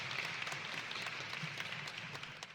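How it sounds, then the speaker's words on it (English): Faint, distant round of applause from an audience at a maternal health fair and panel, soft continuous clapping that gradually thins out. "Let's give a round of applause for her"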